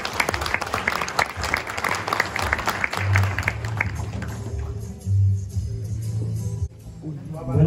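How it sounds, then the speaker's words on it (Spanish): Guests applaud at a wedding reception during the toast, a dense patter of clapping at moderate volume with a low musical hum underneath, thinning out toward the end. "Fuerte aplauso, por favor."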